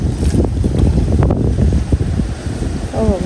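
Choppy sea slapping around a small crab-fishing boat, loud broadband wash and wind buffeting the microphone, with brief murmurs of voices.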